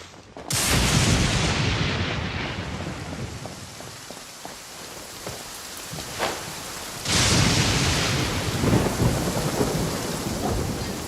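Thunderstorm in the Genshin Impact video game: two loud thunderclaps crash in, each followed by a long rumbling roll, over steady heavy rain drumming on surfaces, with no voices.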